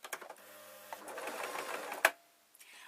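A sewing machine stitches a seam on a tablet sleeping bag, its fast mechanical whir running steadily for about two seconds before stopping with a sharp click, followed by near silence.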